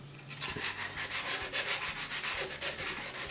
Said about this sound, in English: What I've done is made some sandpaper into a wee tube. Just going to file it out with that.